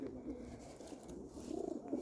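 Soft, low pigeon cooing repeating close by, gentle throaty warbles in a quiet room.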